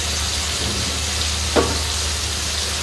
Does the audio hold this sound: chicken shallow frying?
yes